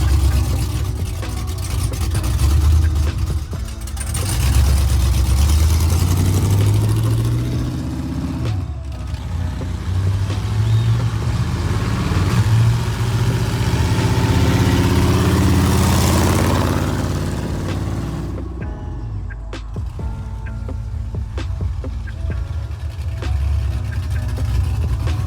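A 2002 Chevrolet Camaro SS V8 on its first drive, with a steady, loud engine drone that rises through gears in sweeping pulls, a brief lift-off between them, heard up close from inside the car.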